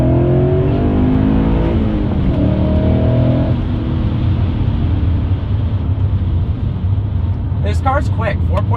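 A BMW E39 M5 with a muffler delete and a 4.9-liter naturally aspirated V8 rumbles loudly in second gear, its deep, throaty exhaust note rising under acceleration, heard from inside the car with someone talking over it.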